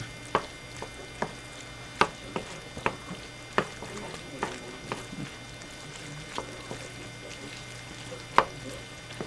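A spoon stirs food in a pot on a homestead kitchen stove as something melts, heard as regular soft taps and scrapes against the pot, roughly one every half second, over a quiet low hum.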